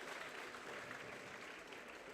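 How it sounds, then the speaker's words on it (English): Audience applause at an orientation event, a steady wash of clapping hands heard from some distance, continuous and even for the whole stretch with no one speaking over it. "Let's give it a big round of applause."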